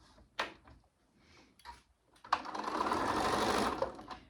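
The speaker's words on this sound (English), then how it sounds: "Now we just need to sew across our bottoms" Sewing machine stitching across the corners of a drawstring bag, a few short handling clicks and bumps, then a close steady run of needle whirring lasting about two seconds; no talk.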